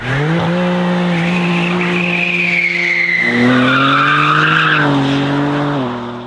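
2023 BMW M3 Touring sliding sideways in rear-wheel drive, a loud sustained tire squeal over a droning engine whose pitch steps up and down, close and continuous with no talk.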